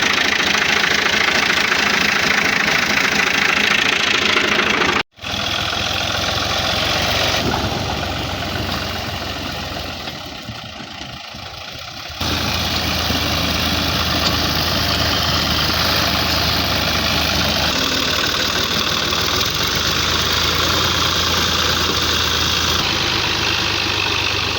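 A tractor engine idles steadily and loudly close by, with a brief dropout and a dip in level partway through before the continuous rumble resumes.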